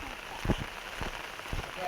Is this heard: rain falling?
yes